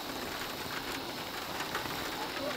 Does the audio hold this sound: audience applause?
no